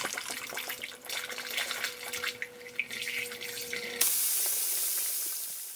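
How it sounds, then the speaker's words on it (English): Water is poured into the drain reservoir of a Van Air Systems PDV-500T zero air loss pneumatic compressor drain, a trickling, splashing pour that gives way to a sudden steady hissing spray partway through. "I'm going to simulate the operation of the drain by pouring some water into the reservoir"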